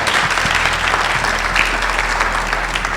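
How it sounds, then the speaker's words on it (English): Forum audience giving a round of applause at a community gathering, dense continuous clapping from many people, loud and close over a low steady hum. "let's give him a round of applause"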